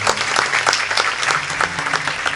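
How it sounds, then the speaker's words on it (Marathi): Audience applause at a kirtan, a dense burst of many hands clapping, close and loud throughout. "त्याच्यासाठी एकदा टाळ्या वाजवा."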